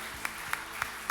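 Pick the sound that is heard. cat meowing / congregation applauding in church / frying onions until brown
congregation applauding in church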